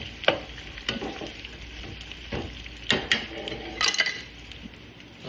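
Onions and garlic sizzle gently in a pan for bruschetta, a soft steady frying crackle with a few sharp clinks of a utensil against the pan.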